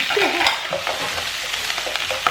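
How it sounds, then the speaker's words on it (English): Scotch bonnet peppers and onions hit a hot pan and sizzle steadily, with stirring scrapes over the continuous frying hiss, close and moderately loud. "I'm putting the scotch bonnet and the onions."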